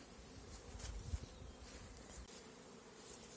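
Faint, steady buzzing of Buckfast honey bees at an apiary, a soft continuous hum with occasional closer passes.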